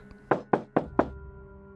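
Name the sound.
knock on a door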